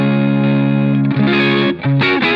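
A Stratocaster fitted with a treble bleed mod plays through gain distortion, sustained overdriven chords and notes ringing with bright highs, a couple of brief dips between changes, loud and alone without talking.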